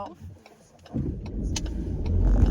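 Inside a car, the engine hum is soft and distant at first, then swells into a steady mid-level rumble as the car moves off, with small clicks and cabin noises over it.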